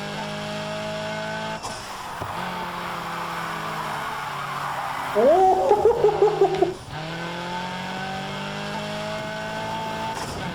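Racing-game car engine from NFS Heat, a steady engine drone that rises through gear shifts, with a brief burst of tire squeal in the middle; a voice gives a short exclamation.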